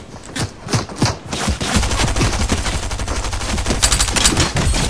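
Loud, close pistol gunshots in Fortnite: a few sharp single shots, then rapid fire continuing in quick bursts.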